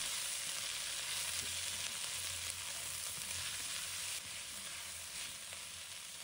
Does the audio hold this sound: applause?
no